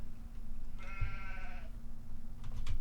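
A sheep bleats once in Farming Simulator 2015, a wavering mid-pitched call lasting about a second over a steady low engine-like hum, with faint rustling after.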